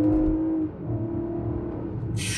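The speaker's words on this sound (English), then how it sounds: "The last test, sports mode is on, zero to 60, foot hard down, let's go." A Lexus RX SUV in sports mode accelerates hard from a standstill toward 60 mph, its engine droning in a steady low rumble with a held tone that dips briefly and then carries on, heard close from inside the cabin.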